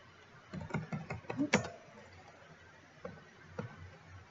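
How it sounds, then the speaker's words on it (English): Someone types a password on a computer keyboard: a quick run of soft, close key taps, then a pause and a couple of isolated keystrokes, with no talking. "And now I'm typing my password, so I'm gonna want to hide that."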